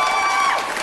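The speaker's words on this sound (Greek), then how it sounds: "Πάρε και το χειροκρότημα τα κορίτσια." Brief applause and cheering from a Greek TV show audience, a loud burst of clapping mixed with bright crowd voices that fades slightly within a second.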